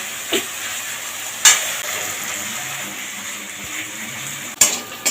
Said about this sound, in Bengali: এর উপর দুটো সেরা কাঁচা লঙ্কা দিয়ে দেবো আবারও ভালোভাবে কষিয়ে নেব